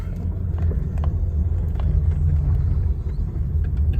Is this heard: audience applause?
no